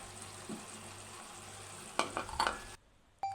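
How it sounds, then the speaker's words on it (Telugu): Eggs are added to a brinjal curry in a pan, a low steady simmer and sizzle followed by a cluster of scraping stirs and clinks of a spoon, close, ending in a sudden cut to near silence. "ఇప్పుడు మనం ముందుగా పక్కన పెట్టుకున్న ఎగ్ అందులో వేసేసుకోవాలి."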